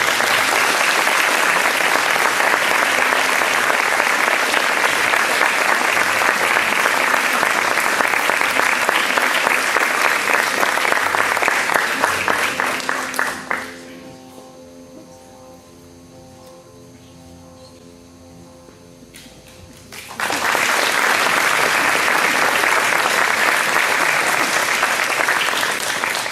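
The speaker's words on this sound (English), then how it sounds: "would you please give Caleb a big round of applause while his parents come accept the award" Loud, sustained applause from a gala awards audience fills the room for about thirteen seconds, drops to a quiet pause with faint tonal background, then swells back into full clapping.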